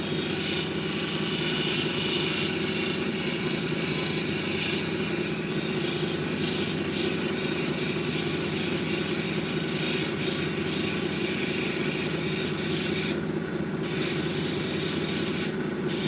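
A lapidary sanding wheel at 3000 grit grinds an Australian boulder opal cabochon, giving a steady, continuous hissing rub with a low mechanical hum beneath, even and unbroken throughout.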